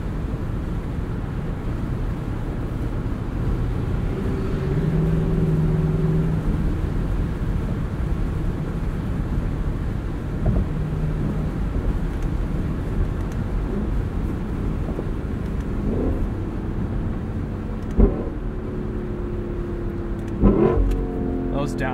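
A 2021 Lexus LC 500 Convertible engine hums steadily while driving, with brief sharp blips from downshifts near the end, heard from inside the open-top car.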